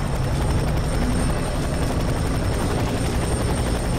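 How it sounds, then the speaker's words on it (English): Helicopter in the shooter game FEAR 3, a loud, continuous rotor thrum with rapid blade chop filling the whole stretch, close and unbroken, no voices. "Hey, Chopper, how you doing?"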